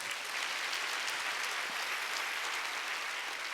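A congregation at a Wednesday church service applauds, a faint, dense and steady wash of clapping with no voices over it.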